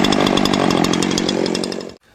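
A free, salvaged chainsaw engine revs loud and close in a steady buzzing drone, then cuts out abruptly near the end.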